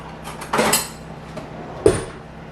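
A metal spoon stirs a chocolate mixture in a pot, with a few distinct clinks and scrapes against the metal. The two sharper knocks stand out over a quiet background, and no one talks.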